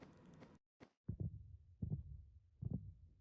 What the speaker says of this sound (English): Listen to the heartbeat slowing down.